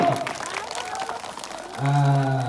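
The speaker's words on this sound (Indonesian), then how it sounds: "Tepuk tangan untuk kita semua dulu." An audience at a primary school's 10 Muharram commemoration claps in a moderate, blurred patter, and a sustained voice or tone rises over the clapping toward the end.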